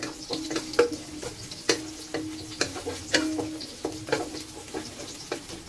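Garlic frying in a pan to golden brown, a steady sizzle broken by a run of sharp clicks and scrapes from stirring, close and moderately loud with no talk.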